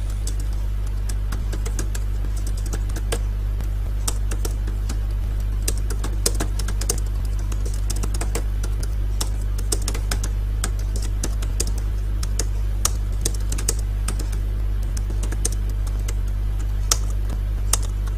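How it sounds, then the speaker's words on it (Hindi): Typing on a computer keyboard during a typing lesson, rapid irregular key clicks going on continuously over a steady low hum, close and clear, with no talking. "तो देखें मैं टाइप कर रहा हूँ।"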